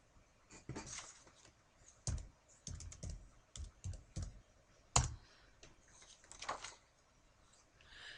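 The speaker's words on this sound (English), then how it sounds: "And I'll type in heating." A computer keyboard is typed on in short bursts of quiet clicking keystrokes, with a few sharper taps and faint ticking between them.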